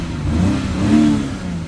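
The three-litre inline-six of a 2022 BMW X6 G06 xDrive40i AC Schnitzer revs up and eases off in a smooth, deep six-cylinder growl, loud and close, with no voices.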